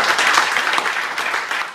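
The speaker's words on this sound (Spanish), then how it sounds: "les pido un aplauso que se lo vamos a mandar" Applause from an audience at a charity donation event for eyeglasses, a steady dense patter of many hands clapping without a break for the whole stretch.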